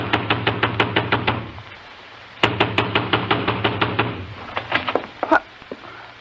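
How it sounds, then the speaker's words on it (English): Heavy fist pounding on a front door of a house, two loud rapid bursts of repeated knocks separated by a brief pause, close and insistent, with a few scattered thumps trailing off at the end. "I ran to the front door and began pounding."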